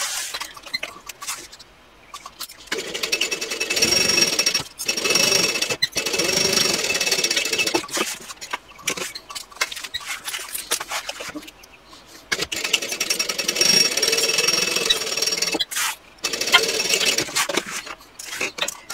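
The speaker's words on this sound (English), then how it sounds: "now I'm going to sew these bottom seams on both of them using a 3/8 inch seam" A sewing machine stitches the bottom seams of a handbag lining with a 3/8 inch seam allowance, running in loud, close bursts of rapid whirring separated by short pauses.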